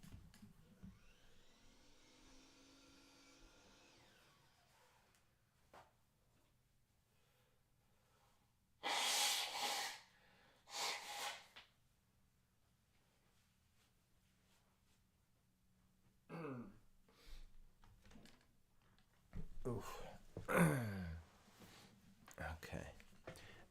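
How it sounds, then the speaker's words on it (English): A man blows his nose in several loud, breathy bursts with pauses between them, close to the microphone over a faint hum. "I gotta blow my nose."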